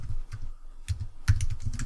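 Quick bursts of keystrokes on a computer keyboard, close and crisp, in irregular clusters with short pauses, no voices.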